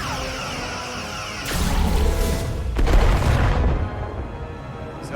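Starship weapons fire in the game Star Trek: Resurgence: loud, deep booming blasts and a rushing energy discharge, two heavy surges over a sustained rumbling battle background.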